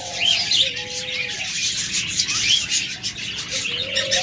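Albino pied budgerigars chirp and chatter continuously in a busy, bright twittering chorus, with a few clearer whistled calls standing out; the birds are close and fairly loud, with no talking.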